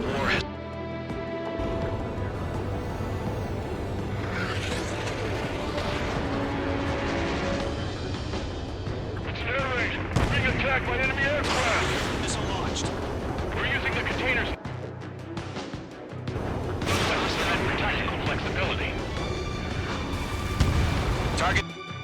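Anti-aircraft fire in the combat flight game Ace Combat 7, heavy booming bursts and crashing explosions layered over a busy battle soundscape, with radio voices shouting under the din.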